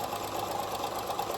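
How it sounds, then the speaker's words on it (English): A sewing machine runs a steady quarter-inch finishing stitch around the edge of a fabric mask, a continuous fast mechanical whir with fine rapid ticking that holds constant, fairly close and alone. "So you just do a finishing stitch around it."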